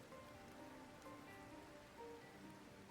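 Steady rain falls outdoors during a storm, a continuous soft hiss of drops on surfaces with no talking.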